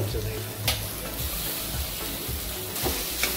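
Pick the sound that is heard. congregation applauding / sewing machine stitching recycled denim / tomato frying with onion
tomato frying with onion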